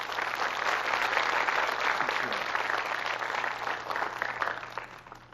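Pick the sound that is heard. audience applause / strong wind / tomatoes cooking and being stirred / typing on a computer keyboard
audience applause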